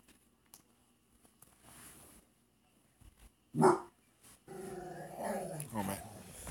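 An old dog lets out a loud, close bark followed by rough, rumbling growls and grumbling vocalizations, with quiet room noise between outbursts.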